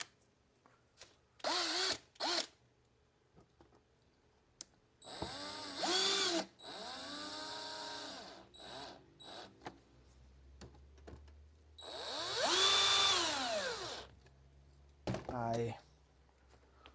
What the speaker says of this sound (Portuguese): Só vou colocar 2 parafusos para segurar e não ficar caindo.